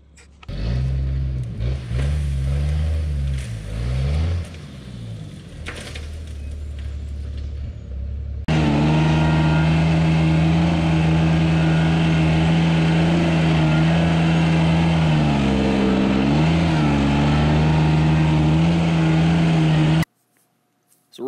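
A truck's engine strains loudly as its wheels spin on slimy, wet dirt while pulling forward during driveway installation, a steady heavy roar with wavering pitch, quieter at first then surging louder and continuous before cutting off.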